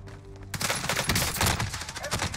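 Rapid automatic gunfire in Call of Duty Warzone on Rebirth Island: a loud, sustained burst of shots erupts after a brief lull and continues steadily to the end.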